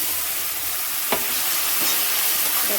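Spice paste for chhanar dalna sizzles in a hot pan, a loud continuous frying hiss with two brief scraping strokes of stirring, close and without talk.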